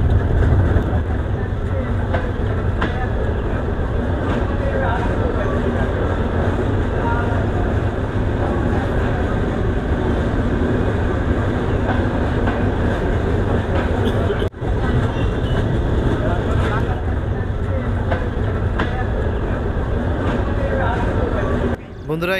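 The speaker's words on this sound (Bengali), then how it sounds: "ট্রেন কিন্তু এখন ছাড়লো ভাঙ্গা স্টেশন থেকে" A crowded Sundarban Express train pulls away from Bhanga station, a steady rumbling roar of wheels and carriages with faint clatter, loud and continuous throughout, with people speaking over it.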